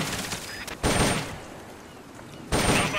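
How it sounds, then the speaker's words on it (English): A couple of gunshots from shooting practice in Metal Gear Solid Peace Walker, two loud broadband bursts about a second and a half apart, each fading into a short tail, with no talking. "Select a target and squeeze off a round or two."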